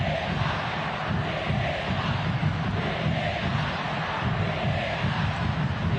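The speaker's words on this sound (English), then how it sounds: "Crowd chanting for VAR." A large football crowd at an AFC Champions League match between Johor Darul Ta'zim and FC Machida Zelvia roars and chants in a continuous, dense wall of sound from the stands.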